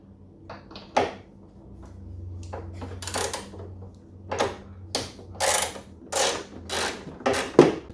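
Metallic ratcheting and clicking of a wrench backing out a 10 mm bolt on a Saab 9-3 fender, coming in short repeated bursts close up over a low background hum.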